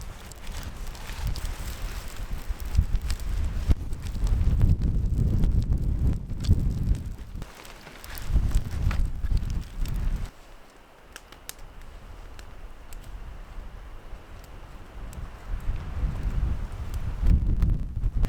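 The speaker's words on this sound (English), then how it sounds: "Oh, this wind is so tough." Strong wind at a wilderness campsite on a cold, wet trip, rushing and buffeting loudly against the microphone in heavy gusts, easing briefly midway before surging again.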